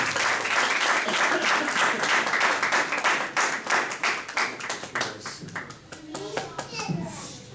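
A church congregation at a Saturday service gives loud, sustained applause with dense clapping that gradually thins into scattered claps, with voices and children audible in the crowd.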